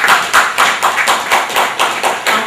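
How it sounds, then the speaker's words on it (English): Clapping at an architects' event, a close, loud burst of rhythmic, evenly spaced claps with no talk. "We want to give him a special round of applause."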